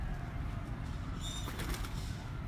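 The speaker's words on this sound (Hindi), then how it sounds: "ये भी उनके घर की कबूतरी है, ये पट्टी है उस्ताद जुल्फ़िकार साहब की" A pigeon flaps its wings in a quick, faint flutter over low background rumble, with no talk.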